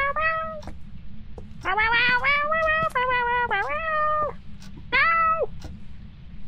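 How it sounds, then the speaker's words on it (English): An Epic Cat Air Guitar in a video game lets out a run of tonal meows, several long drawn-out wails in a row, loud and close over a low steady hum. No one talks. "This is gonna be a jazz Epic Cat Air Guitar."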